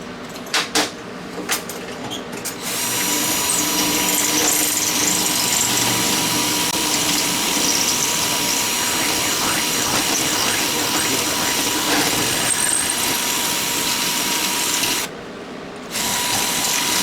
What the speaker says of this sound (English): I'm going to use a smaller drill bit, and then I will, just so it cuts through faster